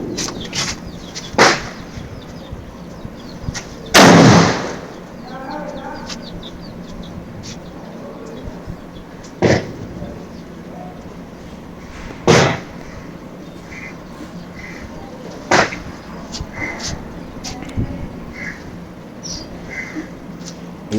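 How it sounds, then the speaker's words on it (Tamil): Atom bomb firecrackers set off one after another outdoors in Tamil Nadu, India, each a sharp, loud bang with a short tail, spaced several seconds apart, with faint chirps and background noise between blasts. "இது வந்து 5வது அணிகுண்டு."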